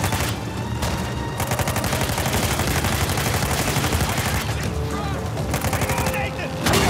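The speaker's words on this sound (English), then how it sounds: "I am shooting" Rapid automatic gunfire in the video game Uncharted 4 rattles on almost without pause, loud and close, with dense volleys that briefly thin out and then return.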